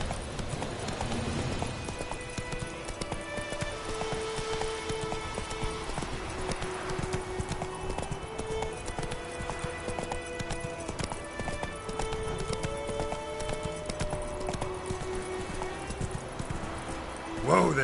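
Geralt's horse Roach galloping in The Witcher 3, a continuous drumming of hoofbeats under game music with a whinny, lasting throughout.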